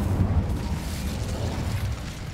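Casting the Incendio fire spell in Hogwarts Legacy gives a deep, rumbling whoosh of flame that holds steady at moderate loudness for about two seconds with no speech.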